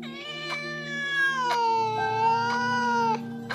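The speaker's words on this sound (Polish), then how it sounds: "No tak, koty." Cats meowing outside near a parking lot behind a grocery store, long drawn-out wailing calls that overlap and hold steady, fairly loud and close, with no talking.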